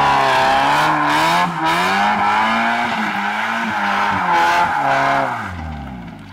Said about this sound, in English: not bad for literally his first time drifting a car ever